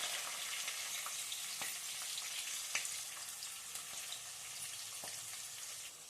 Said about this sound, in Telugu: పోపు దినుసులు బాగా ఫ్రై అయిపోయాయండి